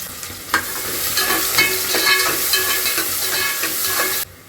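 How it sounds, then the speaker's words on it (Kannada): Chopped onion frying in oil in a pan for vegetable pulao, a steady close sizzle broken by scraping stirs, then cutting off abruptly near the end. "ಇವಾಗ ಈರುಳ್ಳಿ ಚೆನ್ನಾಗಿ ಫ್ರೈ ಆಗಿದೆ"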